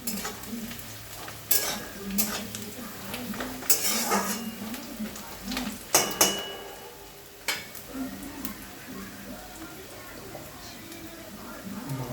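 Onions fry in a pan with a soft, continuous sizzle, while a spoon scrapes and clinks against the metal in several sharp strokes, close and fairly quiet.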